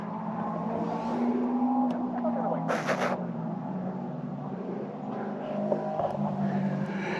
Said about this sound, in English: I think it's time to take out Brian's 2022 WRX.